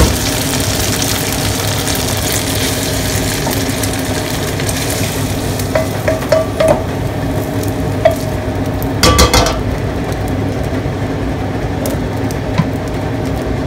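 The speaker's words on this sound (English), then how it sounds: "now start frying the vegetables" Steady sizzling and frying of vegetables in a pan for a beef stir fry, with scattered clinks and stirring scrapes over a constant crackling hiss.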